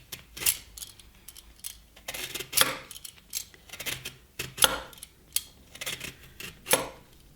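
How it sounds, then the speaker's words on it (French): Peel being zested from a Sorrento lemon, a series of light metallic scrapes and taps at an uneven pace, close and fairly quiet, with no talking. "on prélève l'écorce du citron"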